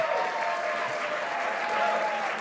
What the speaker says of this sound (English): Let's give the senator a big round of applause.